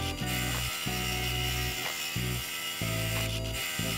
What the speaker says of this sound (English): it does cut a really nice hole with clean sides, which in sheet like this is pretty important